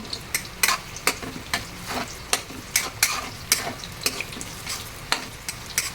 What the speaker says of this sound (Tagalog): halo lang natin para hindi masunog ang ating kikiam at saka chorizo